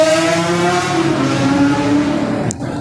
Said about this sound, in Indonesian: Kencang kali motor.